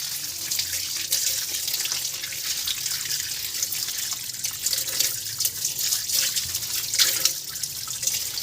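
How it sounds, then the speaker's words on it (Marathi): Running tap water pouring over chopped coriander leaves being rinsed in a plate, a steady splashing hiss with small irregular spatters and drips throughout. "हे सगळं धुवून घेऊया सगळी कोथमीर आपण धुवून घेऊया"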